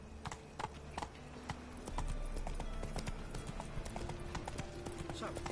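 Hooves of Roach, Geralt's horse in The Witcher 3, clip-clopping in a steady galloping rhythm over a game soundscape, moderately loud, with a brief whinny-like tone and background voices or effects.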